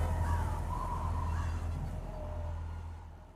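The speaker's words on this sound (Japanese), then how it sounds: "カラスだけど。" A crow caws in the Metal Gear Solid: The Twin Snakes video game, a few harsh calls in the first seconds over a steady low game hum and ambience.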